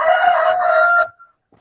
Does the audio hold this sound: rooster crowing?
yes